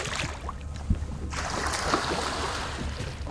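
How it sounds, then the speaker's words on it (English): Wake waves from a passing boat slapping against the hull of a fishing boat at sea, a steady rushing wash of water with a couple of thumping knocks, close and fairly loud. "Oh, here comes a wake, boys."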